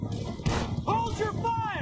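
Gunfire in the Red Dead Redemption 2 video game, a sharp shot followed by further cracks amid a firefight, with shouted voices over the top.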